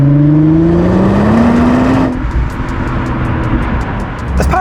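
A Nissan R35 GT-R supercar engine rising steadily in pitch under acceleration, then easing off after a gear change, loud and close throughout with no talking.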